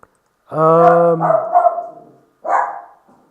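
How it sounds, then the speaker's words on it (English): A dog barks loudly and close by, a long harmonic bark followed by a shorter second one, with no one talking. "Dog flipping out"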